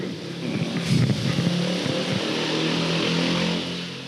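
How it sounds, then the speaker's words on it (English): A broken motorcycle passes outside in Thailand, a rough engine drone rising to a peak about a second in and then holding as a steady rumble before easing off, heard at a moderate distance. "It was a broken motorcycle,"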